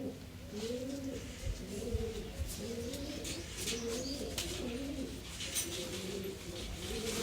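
Blue and black pigeons kept by a hobby breeder coo in soft, repeated rolling phrases, several birds overlapping at close range against a faint outdoor hum.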